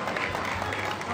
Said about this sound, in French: Donc on peut doublement l'applaudir.